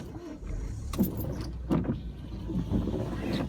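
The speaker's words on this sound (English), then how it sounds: "That's my windscreen wipers going." Car windscreen wipers sweeping inside a running car, soft periodic swishes and thumps roughly every three-quarters of a second over a steady low engine and road rumble.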